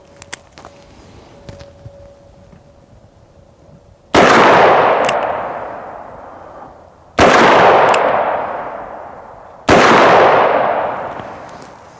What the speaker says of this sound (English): .44 Magnum.